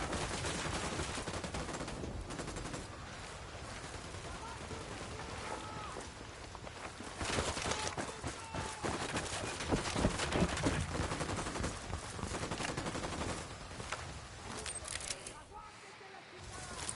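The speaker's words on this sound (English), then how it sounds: "Opening fire." Dense gunfire in a PS4 video game, rapid continuous shots and bursts blending into a loud, busy battle mix that runs the whole way through, with voices talking over it.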